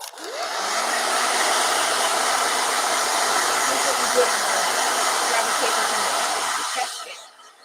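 A hair dryer blows steadily at close range, a continuous broadband whoosh lasting several seconds before switching off.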